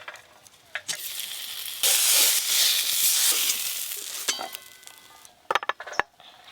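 Eggplant slices frying in oil for a Saraswati Puja meal, a close crackling sizzle that surges loud midway, then clinks and scrapes of a utensil against the pan near the end, without speech.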